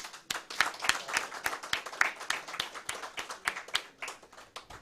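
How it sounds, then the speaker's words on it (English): A small audience claps at an academy inauguration ceremony, steady overlapping hand claps forming modest applause that fills the whole stretch at a moderate level with no talk over it. "Big applaud for them."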